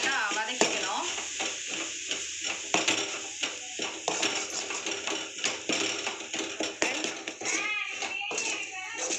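Spices sautéing over a medium flame in a pan with crab to follow, repeated stirring scrapes and soft sizzling over a steady frying hiss, close by, with a voice talking intermittently over it.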